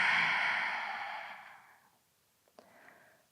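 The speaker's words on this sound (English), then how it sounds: "A little restriction at the back of your throat as you exhale." A long, audible Ujjayi yoga exhale through a constricted throat, a soft hissing breath that fades out over about two seconds, followed by a short quieter breath.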